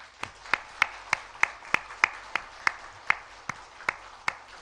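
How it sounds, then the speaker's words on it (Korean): Slow, steady hand clapping from a church congregation welcoming newcomers during Sunday worship, about fifteen distinct claps evenly spaced, moderately loud in a reverberant room. "인사할 때 우리 박수로 환영하겠습니다."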